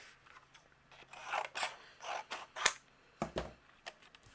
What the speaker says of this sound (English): I'm going to trim this down so I can fit it in my die cut machine.